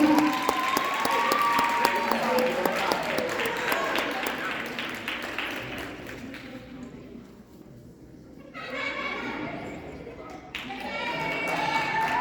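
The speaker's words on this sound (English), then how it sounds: "Juju Williams, here we go, clap it up for Juju." Crowd applauding at a youth basketball banquet awards ceremony, a sustained mix of claps with a presenter talking over it, easing off briefly before picking up again near the end.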